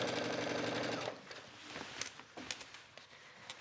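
Sewing machine stitching a waistband onto an A-line skirt: a fast, steady mechanical whir runs loudly for about a second, then stops, leaving quieter handling clicks and rustles.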